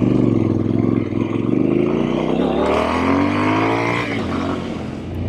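A Triumph Scrambler XC 1200 motorcycle engine revs loudly and close by, its tone climbing steadily in pitch across several seconds and then easing back slightly near the end.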